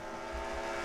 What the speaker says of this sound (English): Watkins goes in downshifts there into turn 1